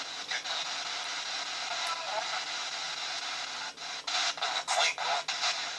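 Steady hissing spirit box radio static sweeps along, broken near the end by rapid choppy bursts as the tuner jumps between stations.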